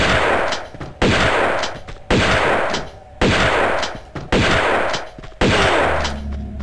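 Six loud shotgun blasts ring out one after another in Tomb Raider II Remastered, each a sharp heavy crack with a short fading tail, spaced about a second apart.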